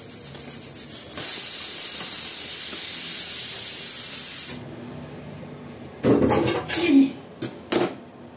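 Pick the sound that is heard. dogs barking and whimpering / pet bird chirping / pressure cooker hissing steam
pressure cooker hissing steam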